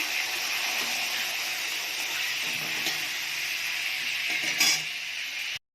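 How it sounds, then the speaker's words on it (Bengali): Prawns frying in hot oil in an Indian home kitchen, a steady close hiss of sizzling that runs unbroken, with a few faint clinks of utensils near the end before it cuts off. "এবার চিংড়িটা ভেজে তুলে নেব"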